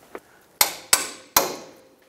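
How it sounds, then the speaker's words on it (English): A hammer strikes a seized bolt in a control arm bushing on a 1996-2002 Toyota 4Runner, three sharp metallic blows with short ringing decay after a faint initial tap, close and loud, no talking. "you're gonna wanna take a hammer and tap it out that way."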